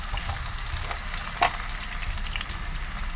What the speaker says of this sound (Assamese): এতিয়া মই আলুখিনি অলপ ৰঙা হোৱালৈকে ফ্ৰাই কৰি থাকিম